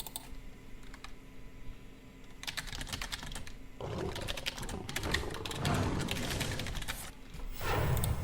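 Rapid keyboard typing on a computer during a Hearthstone Arena session, clattering in bursts that grow denser and louder midway, with brief pauses between runs of keystrokes.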